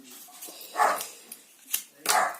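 A guard dog barks in a few sharp, separate bursts, fairly close and moderately loud, with quiet gaps in between.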